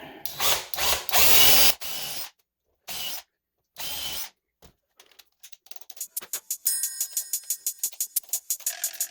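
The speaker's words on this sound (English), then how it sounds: "So I will just put a couple of screws in there to hold everything together." A power drill drives screws into wood in short bursts, several loud whirring runs separated by pauses, followed by a rapid series of clicking ratchet-like taps.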